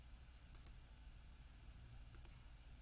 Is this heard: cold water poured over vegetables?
no